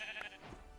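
A pink sheep in a blocky survival video game bleats once as it is killed, a short nasal cry lasting under a second, faint and alone.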